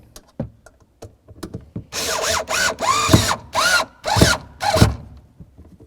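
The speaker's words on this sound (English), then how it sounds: "Now we're going to take our screw and we're going to put it right in there." Power drill driving a screw into a 2003-08 Toyota Matrix taillight, a few short clicks, then five close, loud whirring bursts that rise and fall in pitch, each separated by brief pauses.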